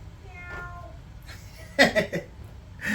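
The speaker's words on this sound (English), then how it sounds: "she could meow from the other room if she felt like it" A cat lets out several short meows in quick succession, then another after a pause, fairly clear in a quiet room with faint background sounds.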